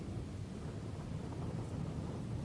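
Heavy rain and thunder in a Hindi animated cartoon form a dense, steady rumbling roar with no break.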